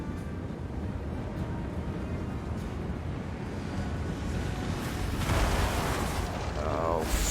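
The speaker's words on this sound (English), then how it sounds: "Freaking bombardments from the Ark." Deep rumbling booms of an artillery bombardment from the Ark in a Total War Warhammer 3 battle, a continuous heavy roar that swells louder toward the end with no clear separate blasts.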